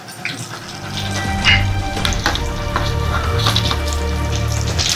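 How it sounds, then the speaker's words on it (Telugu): Fish pieces fry in hot oil in a pan, giving a steady, close sizzle with light crackles and pops throughout, no voices. "చేప ముక్కలు బాగా ఫ్రై అయ్యాయండి"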